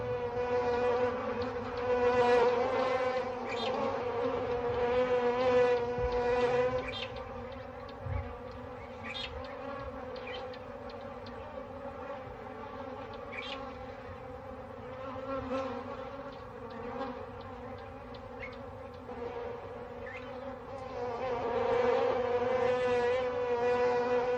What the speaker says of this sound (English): the bees go in search of new victims